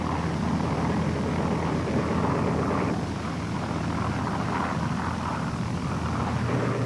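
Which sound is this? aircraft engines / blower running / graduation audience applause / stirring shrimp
aircraft engines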